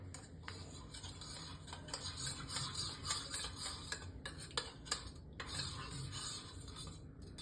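A spoon stirring a bread and milk mixture in a bowl, soft steady scraping and clinking that runs continuously with light irregular taps, fairly quiet and close.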